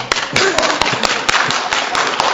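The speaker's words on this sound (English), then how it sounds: "Can we clap for you?" Audience at an evening public planning meeting clapping for the board, a short burst of sharp, close hand claps in an irregular rhythm, fairly loud and with no talking over it.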